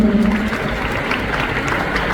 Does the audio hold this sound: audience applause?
yes